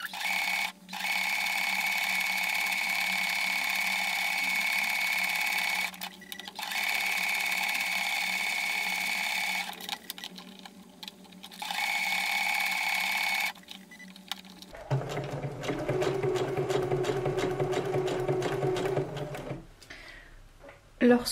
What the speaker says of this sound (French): Et je vais continuer à coudre le plus près du zip des dents possible